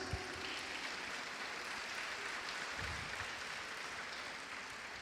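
Sustained applause from an audience welcoming a Franciscan friar to the lectern at a study-week lecture, a steady dense wash of clapping heard fairly faint and distant throughout.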